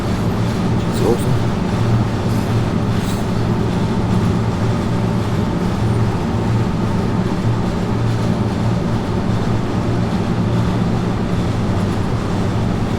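A steady, loud train rumble with continuous low drone and faint clatter, a moving narrow-gauge electric rail car in Train Sim World 2 heard from inside with windows down, with some talking over it.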